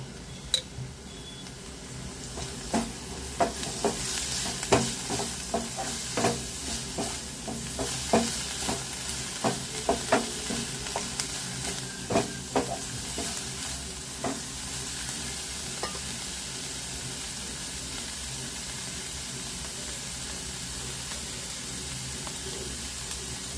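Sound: cauliflower sautéing in oil in a pan

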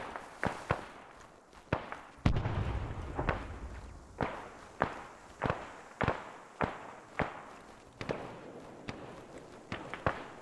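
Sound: flare fired in the video game ArmA 3

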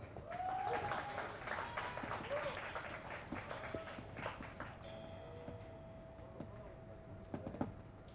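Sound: audience applause welcoming a band

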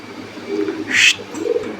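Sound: pigeons cooing at a pigeon farm

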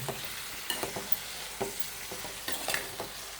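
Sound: stirring vegetable bhaji of bharangi flowers in a pan

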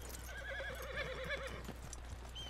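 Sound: horse neighing in video game Red Dead Redemption 2

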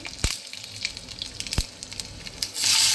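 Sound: mustard seeds and chopped green chillies sizzling in hot oil

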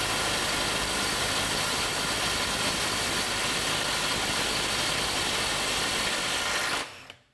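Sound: cordless impact wrench running on a fastener

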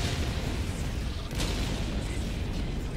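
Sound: explosions and artillery fire in the video game Helldivers 2

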